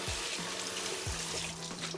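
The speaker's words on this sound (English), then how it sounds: "give them a good rinse with some cold water" Water runs steadily from a cold tap, a soft continuous splashing and hissing with a few low thumps as sugar snap peas are rinsed beneath it.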